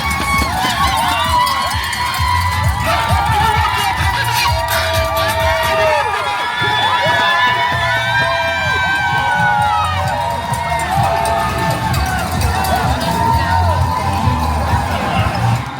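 Crowd cheering and shouting at a roadside cheer station during the Around the Crown 10k in Charlotte, NC, on a closed highway, steady and lively throughout with runners' footsteps and voices mixed in, no clear words.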